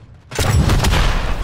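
A grenade goes off in Call of Duty: Modern Warfare 3: a sudden loud, deep boom after a brief quiet start, with a broad roar that holds steady and does not die away before the end.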